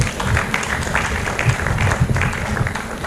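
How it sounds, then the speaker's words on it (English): Audience applause for panelists at a retreat session, sustained dense clapping from a crowd, fairly loud and steady with no one speaking over it. "Let's give them a round of applause."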